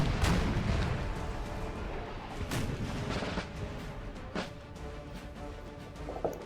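A Russian artillery battery fires in a Napoleonic-era strategy battle, with repeated cannon booms at irregular intervals, some close and sharp, others farther off, over a steady rumble of battlefield noise.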